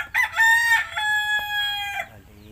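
A rooster gives one full, loud crow up close, a long drawn-out call that trails off at the end, heard alone without talk.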